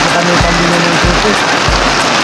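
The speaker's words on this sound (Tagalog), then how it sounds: "kasi malakas ang ulan at hindi pwede lumalakad kami ng ulan" Heavy rain pours steadily as a loud, constant hiss throughout, with a few dull low thumps spaced within it.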